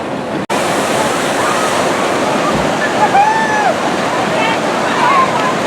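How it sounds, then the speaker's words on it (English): Steady rushing water and splashing from a large water flume ride at Knoebels Amusement Resort in Elysburg, Pennsylvania, a constant broad roar heard outdoors with faint distant voices. "There we got the water flume."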